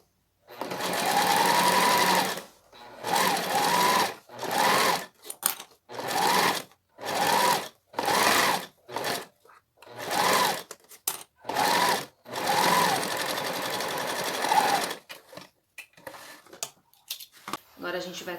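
A domestic sewing machine fitted with a 1.4 needle stitches through a plastic bag in repeated bursts of fast, steady mechanical whirring, close and loud, with brief stops between runs.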